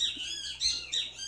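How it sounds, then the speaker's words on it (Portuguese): Birds sing outdoors in a short run of bright, high chirps, about three quick bursts in close succession. They are moderately quiet over faint background hum, with no talk. "Os passarinhos cantando."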